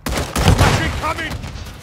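Gunfire from the video game Call of Duty MW3 during a team deathmatch, loud rapid bursts overlapping in a dense fusillade across the clip, with brief voice callouts mixed in.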